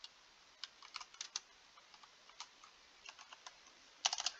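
Someone types on a computer keyboard while playing Minecraft, with quiet, irregular key clicks scattered throughout and a quick burst of presses near the end.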